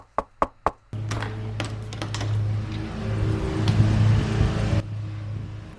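Three sharp knocks on a door land in quick succession, close and distinct, then a steady low hum with rustling and clatter takes over.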